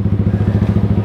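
A motorcycle engine idles close by, a loud, rapid, steady thumping putter with no voices.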